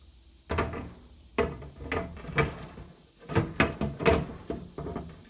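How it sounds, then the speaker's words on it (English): A food dehydrator's front door being fitted back on, notches hooking into place: a string of light plastic clicks, knocks and rattles in uneven bursts, close by, with no talk. "we are ready to put the front door back on"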